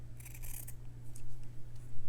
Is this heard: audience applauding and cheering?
no